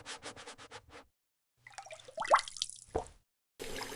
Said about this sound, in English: The soap smells like lemons. I scrub the tea stains.